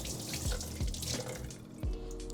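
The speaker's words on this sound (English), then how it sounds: "Go ahead and do this in this bowl so that we can add our nice and warm water to let them soak." Warm water pours from a kitchen tap into a bowl of dried cherries, a quiet, close trickle with soft splashes and a few distinct drip-like plops.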